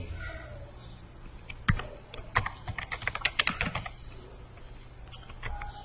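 Keystrokes on a computer keyboard as a heading is typed during a coding tutorial, a quick uneven burst of close clicky taps that starts after a quiet pause and then trails off.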